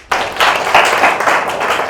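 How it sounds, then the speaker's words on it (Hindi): An audience bursts into applause, a dense wash of many hands clapping at once, loud and sustained. "आप सबकी भरपूर तालियां।"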